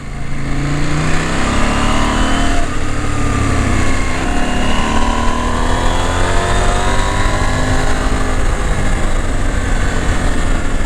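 KTM 790 Adventure motorcycle engine while riding Isle of Man mountain roads, a continuous loud close engine drone with shifting pitch and heavy wind noise, no talking.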